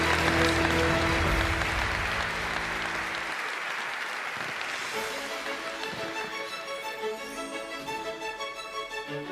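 Loud, sustained applause at a national canoeing gala honoring award winners, a dense wash of clapping that fills the room, with music rising underneath partway through.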